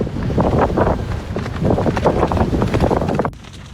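Strong wind blowing across a mountain campsite in the Cantal hills, battering tents: loud, gusting roar and flapping buffeting up close against the microphone, surging in waves, then easing off near the end.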